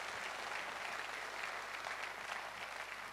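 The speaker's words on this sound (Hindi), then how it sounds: "एक बार जोरदार तालियां हो नेस्विज आयोनाइजर के लिए" Steady applause from an audience greeting the Naswiz alkaline water ionizer, a dense, even wash of clapping that holds throughout at moderate volume with no voices.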